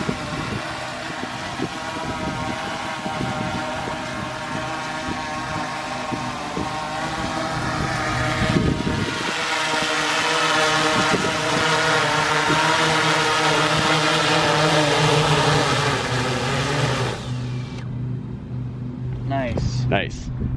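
A DJI Inspire 2 drone hovers in wind, its steady loud motor and propeller whine droning continuously up close, with people talking over it before it cuts off near the end.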